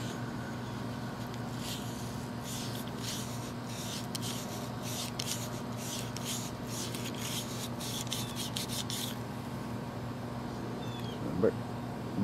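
A brush works back and forth through the bore of a Beretta Model 81 Cheetah pistol in .32 (7.65) caliber, giving about a dozen steady rasping strokes at close range over a constant background hum, then a brief clink.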